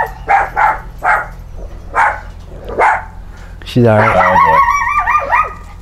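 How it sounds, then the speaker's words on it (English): A dog barks several times in a loud, sharp run, each bark clearly separated, before people start talking over a lingering hum. "Your dog just like is so quiet and then just barks."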